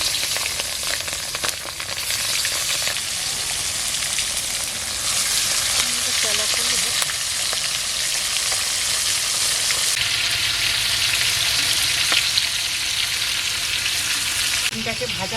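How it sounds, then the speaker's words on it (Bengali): An egg fries in hot oil in a wok, making a loud, steady, crackling sizzle that runs close and unbroken throughout. "ডিমটাকে ভাজা হয়ে গেছে,"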